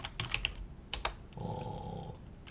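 Rapid keystrokes on a computer keyboard as a dog food search is typed into an online shopping site, in a few quick clicking bursts followed by a softer steady hum.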